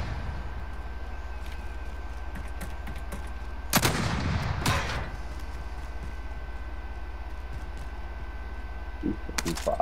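Gunfire in an online shooter game bursts in a dense rapid volley near the middle and a few later cracks, heard over constant low game noise while players talk.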